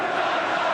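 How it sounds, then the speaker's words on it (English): Football stadium crowd at a Manchester United versus Everton match booing Rooney, a steady, dense roar of massed voices filling the ground without a break. "I wonder how it'll affect him, this constant booing"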